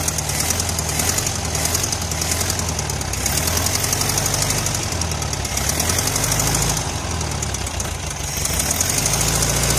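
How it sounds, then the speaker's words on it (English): A 1973 VW Karmann Ghia engine idles steadily at a low, slightly uneven idle, a close continuous rumble with a rhythmic knocking pulse and no talking over it. "Looks like the idle is set a little low. Timing may still be off, but she's running."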